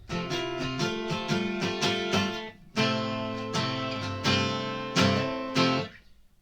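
A short acoustic guitar lick: quick plucked notes in bursts, pausing, then repeating, ending on a ringing note, close and clear.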